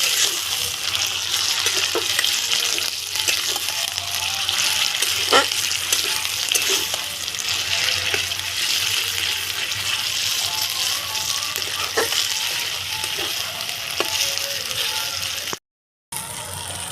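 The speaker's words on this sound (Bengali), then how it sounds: "বেটে রাখা কাঁচা লঙ্কা কালো জিরে আর রসুনটা দিয়ে দেবো করে নাড়াতে হবে" Green chili paste, nigella seeds and garlic fry in a pan while being stirred, a soft continuous sizzle with occasional scraping knocks, fairly quiet and steady, cutting out briefly near the end.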